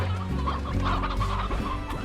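Chickens cluck continuously in the video game Slime Rancher, with a busy flock clucking close by and no talk over it.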